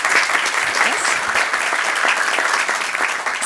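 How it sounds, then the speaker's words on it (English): Audience applause at a city council meeting honoring a doctor, dense steady clapping throughout, loud and sustained with no pause. "Round of applause for Dr."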